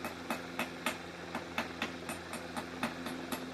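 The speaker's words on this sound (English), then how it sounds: "That's the sound of metal, so it is metal." Solid metal Iron Man action figure tapped repeatedly, about a dozen sharp, light clicks at a steady rhythm over faint background hum, close and quiet, with no talking.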